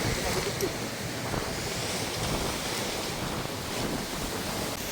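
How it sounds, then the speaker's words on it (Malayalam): Strong wind at a campsite during tent setup buffets the microphone in a constant rough rumble, with gusts rising and falling slightly but never dropping away. "ഇന്നിപ്പോൾ ഇവിടെ നല്ല കാറ്റുണ്ട് കേട്ടോ"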